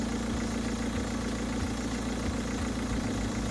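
A Toyota Supra engine idles nearby with a deep, steady rumble and a low, slightly uneven pulsing throb, loud and constant throughout.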